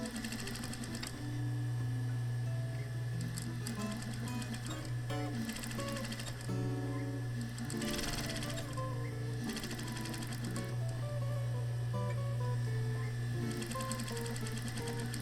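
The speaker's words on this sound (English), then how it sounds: "Finally, stitch down very close to the outline." A sewing machine stitches a fabric face mask close to its outline, running with a steady mechanical hum and rapid rhythmic needle clatter, close and continuous, with a few brief slowdowns and pauses between runs.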